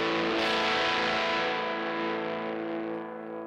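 Electric guitar played through a Little Bear Fuzz pedal, a single sustained chord of thick, heavily distorted fuzz that rings loud and buzzing, then slowly decays over a few seconds.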